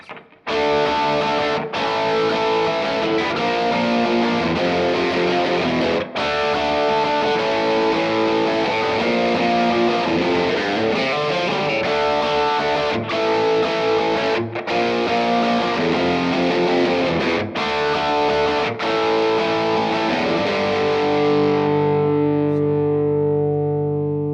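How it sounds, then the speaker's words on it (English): Heavy distorted electric guitar power chords from a Reverend AirSonic W ring out loud and sustained, struck in repeated chunks with a final chord left to decay. "You can also get some of the nice kind of power chord heavy tones."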